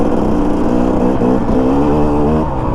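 A KTM dirt bike engine revs hard and steadily during a wheelie, loud and close, with a continuous buzzing drone that wavers slightly in pitch.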